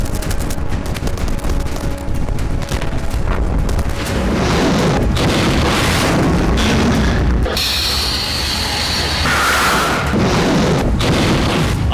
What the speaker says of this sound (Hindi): अटैक हेलीकॉप्टर से गोलीबारी हो रही।